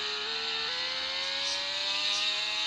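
A car accelerating in a racing video game, a steady engine whine rising gradually in pitch, fairly loud and alone, with no talking.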